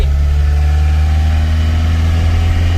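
An Isuzu D-Max diesel pickup truck drives with a steady, loud, low engine drone from inside the cab, running continuously without talk.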